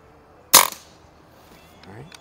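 A single sharp crack from a Crosman Icon air rifle firing a double shot of pellets, loud and close, followed by a faint mechanical click and a voice speaking.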